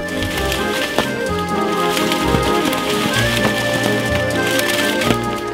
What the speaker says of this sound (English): When the farmer shakes a tree branch, persimmons rain down on John